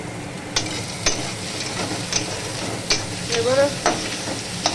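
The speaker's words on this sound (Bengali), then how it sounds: "পেঁয়াজটা একটু ভাজা হবে, পেঁয়াজটা ভাজা হতে অনেকটাই সময় লাগে।" Onions frying in a pan for a meat dish, a steady sizzle with periodic scraping stirs and a brief spoken word over it, close and moderately loud.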